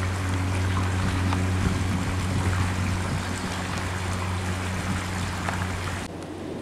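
Creek water flows steadily in a continuous wash with a faint low hum, the sound constant and fairly close throughout.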